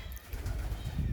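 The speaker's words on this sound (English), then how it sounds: "Hello, pigeons." Soft, low pigeon cooing murmurs continuously with faint fluttering, a steady ambient bird sound with no talking.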